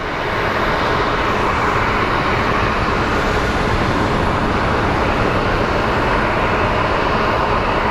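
Airliner taxiing at Phoenix Sky Harbor International Airport gives off a loud, steady jet engine roar, broadband and unbroken throughout.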